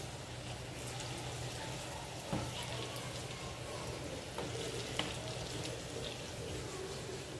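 Mixed dal bhaji balls made with carrot dropping into hot oil: a soft, fairly quiet bubbling fry with a couple of small knocks, no one talking.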